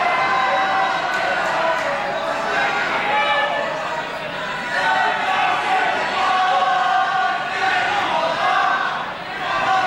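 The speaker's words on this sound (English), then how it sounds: "And the crowd starts singing There's Only One," Boxing crowd at the Jamie Porter vs Ben Vezza fight singing "There's Only One Jamie Porter", a dense, loud, sustained wash of massed voices and chanting filling the arena for the whole stretch.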